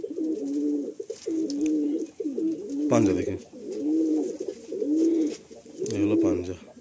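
Pigeons cooing up close for sale, soft rhythmic repeated coos in several rounds, with someone talking in between.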